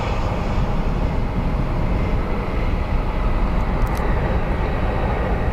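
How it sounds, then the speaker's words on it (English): Gulfstream private jet at London Heathrow Airport giving a steady, loud broadband engine roar that holds evenly throughout, with no talk over it. "What's this, Gulfstream or something?"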